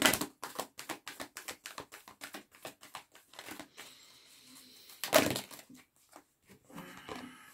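A deck of cards is cut and handled during a card reading, giving a quick run of crisp, papery snaps, then softer crinkly shuffling and a few light taps, close and quiet.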